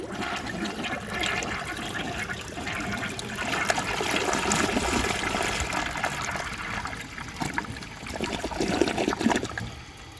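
A 1957 Kilgore Atlas toilet flushes a washcloth: a steady, loud rush of swirling water runs for about ten seconds, swelling slightly near the end before tapering off, with no talking.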